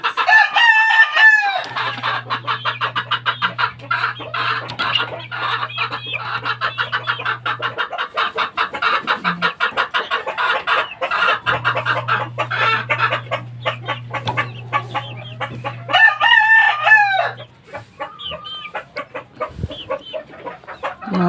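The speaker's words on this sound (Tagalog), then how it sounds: "Mga sisiw natin, guys." Chicks of fighting cocks cheeping steadily in a high, busy chorus, with adult chickens clucking and a rooster crowing nearby amid the clatter of a farmyard coop.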